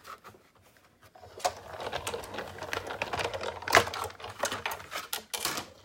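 A Big Shot embossing machine cranks a paper leaf through an embossing folder, giving a close, moderately quiet run of ratcheting clicks and grinding rattles.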